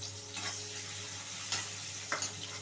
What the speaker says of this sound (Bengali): এবার এই তেলের মধ্যেই আমি এখানে একে একে আমি দিয়ে দিচ্ছি পেঁয়াজ কুচি